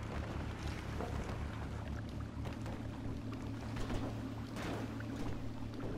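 A jet ski engine drones steadily in GTA V, a low, constant hum over splashing water, heard fairly quietly and without a break from start to end.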